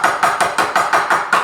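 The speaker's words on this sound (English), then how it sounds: "then I hammer carefully in" Small hammer tapping on the brake hose part of a Toyota Corolla front brake, eight even, sharp metallic strikes in a steady quick rhythm, close and fairly loud with no talking.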